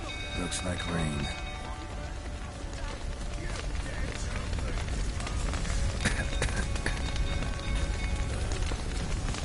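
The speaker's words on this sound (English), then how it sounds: "Looks like rain." Rain patters steadily across surfaces in a PS4 video game amid busy background activity and occasional sharp sounds, fairly loud and continuous.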